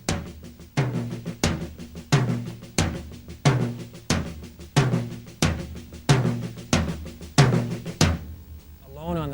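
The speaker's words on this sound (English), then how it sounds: "I'm going to spread this out on my toms so you can hear the difference in the sticking." Paradiddle rudiment spread across the tom drums, a steady pattern of evenly spaced strokes with regular accents moving between drums, close and clear, with a short tail of ringing at the end.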